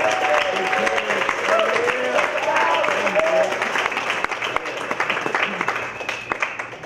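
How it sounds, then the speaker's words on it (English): Audience at a film festival awards ceremony applauds Kevin Sampson, a sustained round of clapping that thins toward the end, with a voice and background music faintly underneath. "can I please have a round of applause for Kevin Sampson?"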